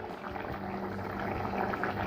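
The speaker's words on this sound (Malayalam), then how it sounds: "അപ്പോൾ നമ്മുടെ കറി തിളച്ചിട്ടുണ്ട്." Kerala fish curry soured with kudampuli simmers in a pot, giving off a soft, steady bubbling with small gurgles close by and no talk.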